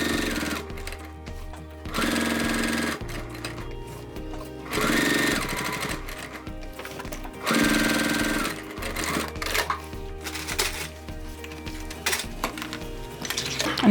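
A sewing machine stitches a crossbody bag in rhythmic runs of rapid mechanical thumping, starting and stopping several times up close with no talk.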